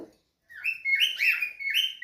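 Pet cockatiels give a few close, bright chirps and short whistled calls in quick succession after a brief pause, with no talking.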